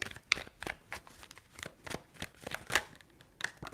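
Tarot cards are shuffled by hand in a series of crisp riffling bursts with short pauses between them, close and fairly quiet.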